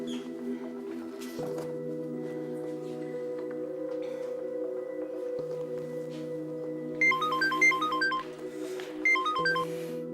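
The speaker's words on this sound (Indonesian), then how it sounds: "Apa aku telepon Aldo ya?" A phone rings during an outgoing call in an Indonesian TV drama, with two short bursts of a bright, repeating electronic tone over a steady low drone.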